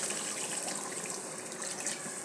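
Water poured into a pan while cooking rui fish curry: a steady, close splashing gush that runs unbroken for a couple of seconds.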